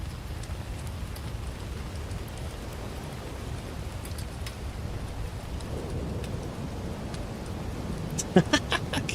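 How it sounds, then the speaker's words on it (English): Steady rain patters outside a tent in a broad, even wash, and a short burst of sharp crackles near the end could be a campfire or distant thunder. "Can you hear the rain?"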